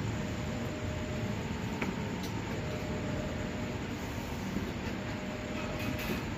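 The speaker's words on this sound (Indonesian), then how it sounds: "Ya, ini kereta api mau datang teman-teman" A steady, broad rumbling roar of a commuter train arriving at Porong station rolls on continuously, loud and close, with faint metallic squeals now and then.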